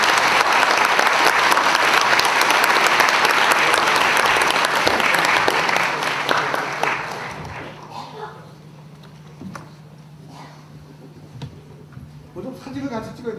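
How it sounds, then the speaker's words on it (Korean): Applause from a university lecture audience thanking a former party leader, loud and dense for about six seconds, then thinning into scattered claps and a low hum before talk resumes. "큰 박수로 감사를 드리겠습니다"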